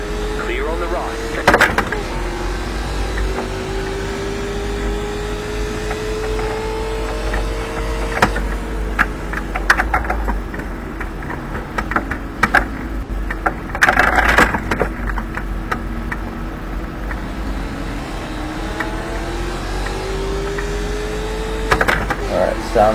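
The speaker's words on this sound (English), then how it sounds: "Engine under full load. And moderate traffic." Car engine under full load in moderate traffic, a steady low drone running throughout with passing road and traffic noise, while someone talks intermittently over it.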